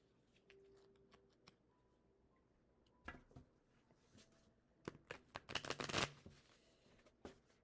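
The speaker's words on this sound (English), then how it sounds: "I have a problem shuffling them." Thick tarot cards shuffled by hand, close up and quiet, with a few light taps and riffles early on and then bursts of crisp, papery riffling toward the end.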